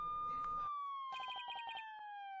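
Police car siren wailing loud and close, a steady two-tone sweep with a burst of rapid yelp pulses partway through, no voices over it.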